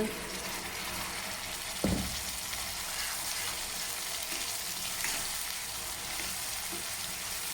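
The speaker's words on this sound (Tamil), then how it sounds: "ஸோ இப்போ நம்ம அரைச்சி வச்சு பேஸ்ட்டை ஊற்றியாச்சு." A ground paste of garlic and tomato fries in a pan with a steady, dense sizzle that hardly changes. One brief stirring scrape cuts through early, and fainter stirring taps follow.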